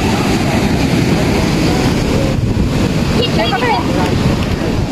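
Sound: sea waves

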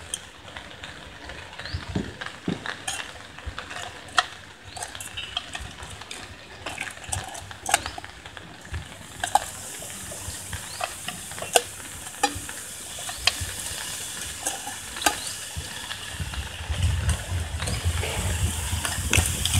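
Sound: river prawns grilling in a Teflon pan

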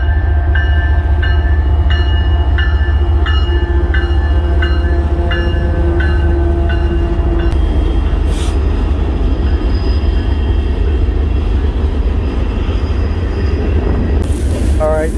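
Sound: passing train

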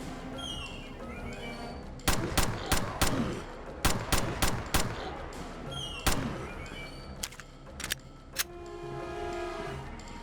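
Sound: gunshots in horror video game Mansion of the Dead

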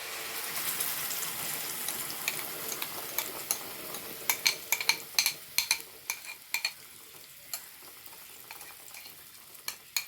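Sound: stirring blended carrot in ghee

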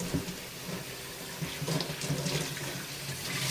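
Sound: water filling a cola bottle

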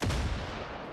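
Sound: grenade explosion in Far Cry video game

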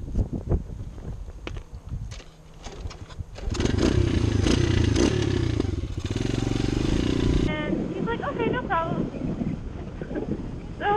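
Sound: 125cc pit bike engine riding while towing a quad

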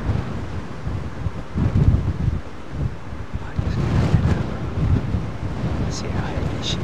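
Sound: strong wind at Heathrow Airport

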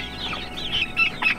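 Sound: chicks clucking on grass

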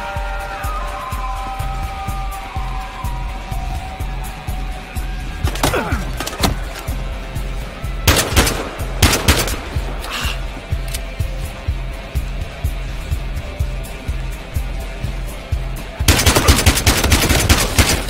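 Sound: gunfire in Battlefield Hardline video game

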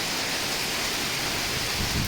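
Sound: hail falling heavily

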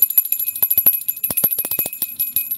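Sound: little bell ringing sound effect

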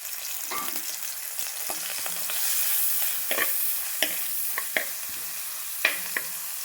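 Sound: crushed ginger and garlic frying in hot coconut oil

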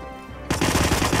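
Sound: gunfire from the video game Hitman

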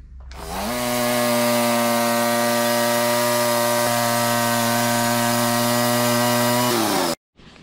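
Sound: Woodland Mills HM130 MAX sawmill cutting Douglas fir log

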